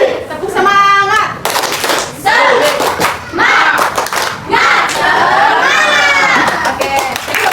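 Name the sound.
class doing a spirit clap chant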